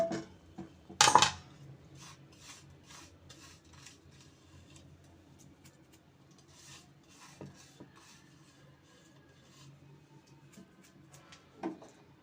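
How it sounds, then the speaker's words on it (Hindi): A metal spoon scrapes and rasps against a pot of chicken handi over the stove, with a sharp clatter early on, then soft intermittent scraping and stirring, close and fairly quiet. "चूल्हे को हमने थोड़ा सा तेज़ कर दिया है और साथ साथ हम चम्मच भी हिला रहे हैं"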